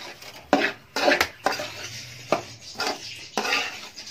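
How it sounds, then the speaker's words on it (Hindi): A spoon stirs semolina roasting in a pan, scraping and knocking against the metal in quick, irregular strokes over a soft background sizzle. "आपने चमचा जो है पहले से भी ज़्यादा स्पीड में चलाना है"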